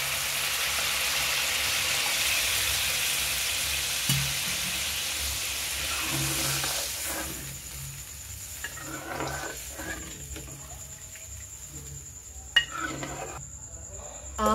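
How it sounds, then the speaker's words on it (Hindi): Water is poured into village-style masala fish curry in a pan; a dense hot sizzle runs for several seconds, then dies away into quieter bubbling with light metallic clinks of utensils. "अब हम लोग इसमें पानी डाल लेंगे।"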